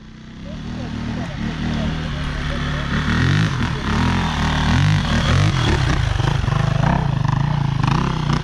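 A motorcycle engine revs hard and steadily throughout, loud and close, with people shouting over the roar.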